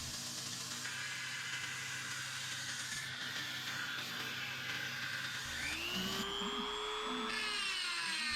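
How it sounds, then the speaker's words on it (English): A Dremel rotary tool fitted with a carbide bit grinding a Damascus steel knife billet: a steady high-pitched whine that shifts pitch partway through as the bit bites, close and continuous with no talking. "These carbide bits for the Dremel are pretty sweet."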